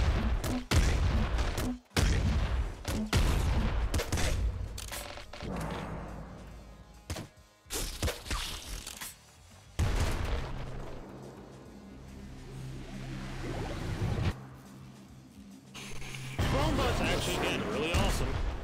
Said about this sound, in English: Double grenade launcher sounds